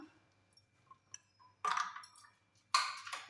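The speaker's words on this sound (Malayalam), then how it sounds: "കുറച്ച് ഐസ് ക്യൂബ് ഇട്ട് കൊടുക്കാം" Ice cubes drop into a glass of lemon juice: two sharp clinking bursts with a few faint ticks before them, in a quiet room.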